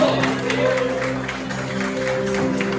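A church congregation at a worship service breaks into applause, a dense and fairly close wash of clapping over a sustained musical backing, lasting only a few seconds.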